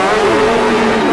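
Grasstrack racing motorcycles rev hard together at the start, a loud, dense engine roar with rising pitch sweeping over the whole moment, with a commentator's voice running over it.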